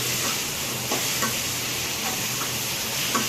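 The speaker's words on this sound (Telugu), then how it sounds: "ఫ్రై చేసుకున్న చామగడ్డలను అయితే వేసేసుకోవాలి. వేసేసుకొని మంచిగా కలిపేసుకోవాలి." Fried taro roots are stirred into a simmering tomato curry in a pan, a steady sizzle and bubbling with soft scraping strokes of a spoon recurring through it, no voices.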